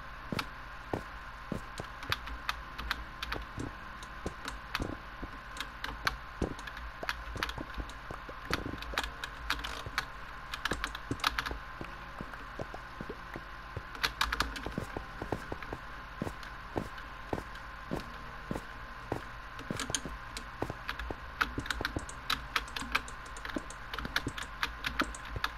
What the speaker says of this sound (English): Oh my gosh, the keyboard clicks are so freaking loud.